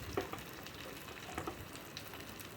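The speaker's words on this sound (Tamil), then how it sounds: "வெங்காயம் வெந்துருச்சுங்க ஓரளவுக்கு போதும் இப்போ நம்ம தாளித்து கொட்டிக்கலாம்" A ghee tempering is poured into a pan of fried small onions, giving a soft, steady sizzle with a few faint crackles and light stirring, quiet throughout and with no talking.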